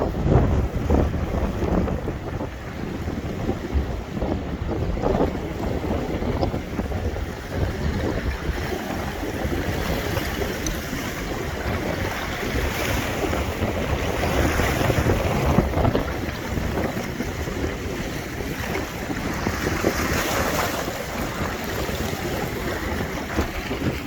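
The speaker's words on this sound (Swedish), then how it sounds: "vad det blåser alltså" Strong wind roars and buffets the microphone continuously, a dense rumbling rush with gusts rising and falling throughout.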